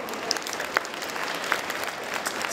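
An audience at a pastry award ceremony in Paris claps in a steady patter of applause, with a few sharper individual claps standing out above the crowd.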